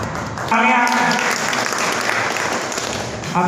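An audience at an elders' honouring ceremony held by a Brahmin community assembly breaks into sustained applause, dense crowd clapping that continues throughout, with a voice briefly heard over it near the start.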